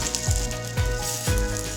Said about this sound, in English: We take our barramundi that we've lightly dredged in our seasoned flour and place it directly onto our skillet